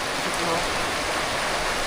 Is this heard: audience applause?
no